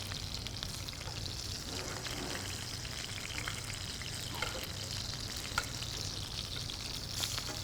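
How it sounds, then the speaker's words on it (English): A ribeye steak sears in a hot pan, giving a steady close crackling sizzle with scattered pops running throughout, no voices heard. "We're gonna sear both sides first though."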